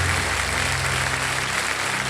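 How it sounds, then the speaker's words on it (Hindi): Studio audience of the Kaun Banega Crorepati quiz show applauds loudly, a dense continuous clapping that fills the whole short stretch with no voices over it. "तालियां बजाएं जोरदार।"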